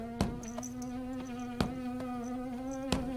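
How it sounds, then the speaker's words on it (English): A steady buzzing fly in a cartoon, its continuous drone running throughout with a few sharp clicks and impacts punctuating it, fairly close. "Did Scooby just eat a fly like a frog?"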